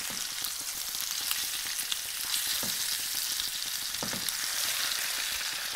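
Mediterranean-spiced sea bass fillets sear in a pan with an even, continuous sizzle, broken by a few soft knocks as the fillets are turned.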